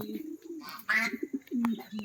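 Pigeons at a bird park coo softly in low, throaty rolls close by, with a brief brighter call in the middle and faint background chatter.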